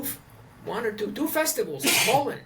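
A single short sneeze breaks into a conversation between interviewer and guest, close to the microphone, with speech before and after it.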